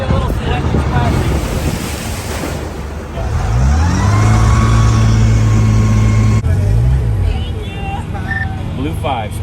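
Water splashes and rushes around a moving amusement ride vehicle amid loud wind buffeting, while riders shout and exclaim over the noise throughout.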